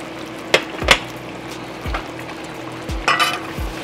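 Garlic sizzling in a pan while being stirred for a chicken curry, a steady frying hiss under a few sharp scrapes and low knocks of the utensil against the pan, with no talk.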